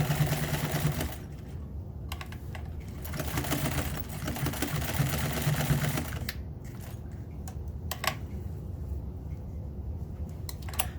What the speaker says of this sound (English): So I do a little reverse stitch right at the corner.